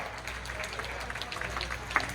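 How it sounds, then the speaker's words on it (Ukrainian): Audience applause at a gathering, a dense steady patter of many hands clapping at moderate distance, fairly quiet throughout with a brief louder clap near the end. "Ще раз поаплодуємо, будь ласка."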